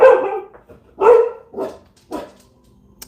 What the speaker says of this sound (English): that's my dog for you.